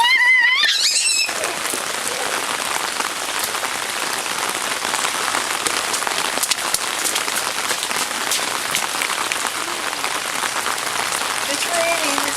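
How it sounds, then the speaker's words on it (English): Heavy rain pouring down and pattering densely on a surface, a loud continuous hiss that follows a brief moment of a voice at the start. "It's raining, it's pouring."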